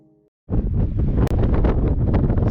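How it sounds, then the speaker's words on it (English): Strong wind buffets a microphone high on a mountain, a loud, continuous roar of gusty noise that starts abruptly after a brief quiet moment and briefly cuts out once midway. "It's awful windy up here, and my tripod got knocked over,"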